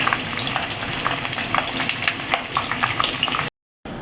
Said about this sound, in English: And now in this same oil I'll fry the peppers